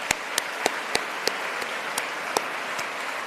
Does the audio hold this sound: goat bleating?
no